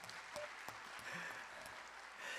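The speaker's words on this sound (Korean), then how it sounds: "박수 한번 쳐주십시오." At a church conference talk, the audience gives a brief round of applause, soft and distant-sounding, a fairly even patter of clapping for a couple of seconds.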